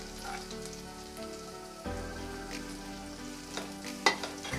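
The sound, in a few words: sautéing shallots and green chillies with garlic for soup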